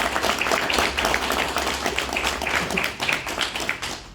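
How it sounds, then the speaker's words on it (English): Audience applause at a TOYLANTA toy convention panel, a dense, steady wash of many hands clapping that carries on loudly for about four seconds before thinning slightly at the end. "I think that's an applause for everybody for making this happen"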